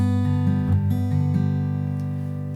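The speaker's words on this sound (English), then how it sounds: "standard finger picking progression" Acoustic guitar played in a Travis fingerpicking pattern, a steady alternating bass under plucked treble notes, ringing clearly and close with no talking.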